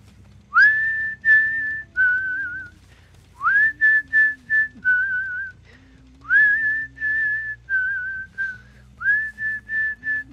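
A person whistles a short repeated tune in clear phrases of rising and held notes, close and loud, during a Dead by Daylight game session, with no speech over it.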